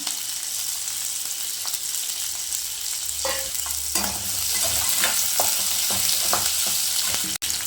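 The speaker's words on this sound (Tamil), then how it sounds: "ஆனியனும் கருவேப்பிலையும் ஆட் பண்ணிக்கலாம். கிரீன் சில்லி ஒரு 3 ஆட் பண்ணிக்கிறேன்." Onion, curry leaves and three green chillies hit hot oil with popped mustard seeds, the base for a mutton kulambu. A steady, bright sizzle runs alone throughout, broken by scattered taps and scrapes of a stirring spoon.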